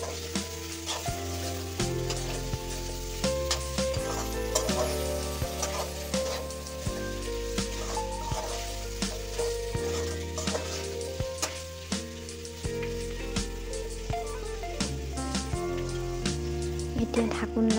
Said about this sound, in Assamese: এতিয়া দিম আলু। সেইখিনি ভালদৰে ফ্ৰাই কৰি ল'ম।